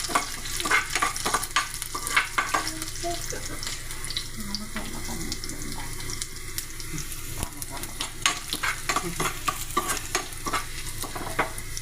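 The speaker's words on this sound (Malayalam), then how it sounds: "അപ്പോൾ ഇത് ഉള്ളിയും കറിവേപ്പിലയും എല്ലാം മൂത്തിട്ടുണ്ട്" Onions and curry leaves fry in a pan for thoorana (drumstick leaf stir-fry), a steady sizzle running throughout with frequent scraping clicks of a spoon stirring, close and fairly loud, no talk.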